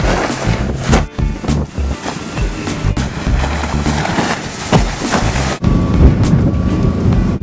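Windy Kharma 26 motor boat running in strong wind off Norway, with heavy gusting wind buffeting the microphone, water splashing and hull slapping, and a low engine drone underneath.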